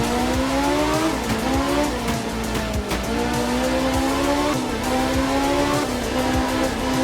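Rally car in Art of Rally driving hard, its engine revving and shifting up and down steadily while tires skid and squeal on the surface, loud and continuous.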